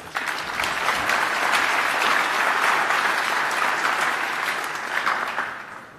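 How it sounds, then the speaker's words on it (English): A large audience claps loudly and continuously, a dense wash of applause that holds steady for several seconds before starting to fade. "give them another round of applause."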